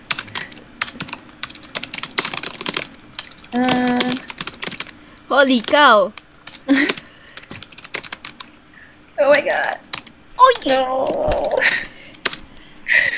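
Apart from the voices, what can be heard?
typing on a computer keyboard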